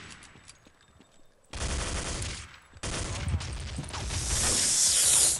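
An AK rifle fires in Counter-Strike: Condition Zero multiplayer in two sustained bursts of rapid gunfire. The second burst grows louder and harsher toward the end.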